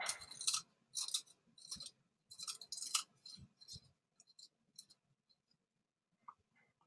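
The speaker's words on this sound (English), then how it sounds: "I'm going to sharpen my pencil again." A pencil is sharpened in a pencil sharpener, several short rasping, grinding bursts in quick succession that thin out into a few faint scrapes and then near silence.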